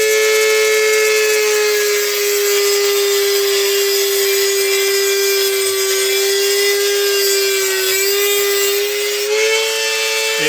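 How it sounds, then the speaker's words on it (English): Dremel rotary tool cutting custom parts, a loud, steady high-pitched whine held without a break, dipping slightly in pitch near the end as it bites into the material. "I'm going to try using this Dremel because I can't find the wrench for my cutoff tool"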